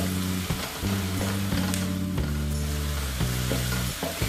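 Garlic fries in a pan over medium heat for homemade egg fried rice, with a steady loud sizzle throughout and a few scraping stirs. No one speaks.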